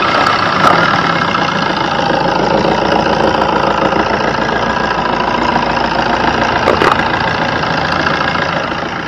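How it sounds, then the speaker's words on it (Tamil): A steady, loud diesel engine of a Maruti Suzuki Ritz car idles close by, a constant low rumble with a slight knock, running evenly with no voices. "இப்போ வாங்க வண்டியோட இன்ஜின் சவுண்டை பார்த்தீங்கன்னா கேட்கலாம்"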